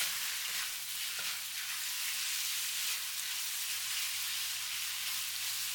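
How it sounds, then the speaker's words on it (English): Marinated beef sizzles in vegetable oil in a hot pan, a steady, close hiss of frying that holds without a break. "Add the 2 tablespoons of vegetable oil. Put the marinated beef. Stir for 1 minute."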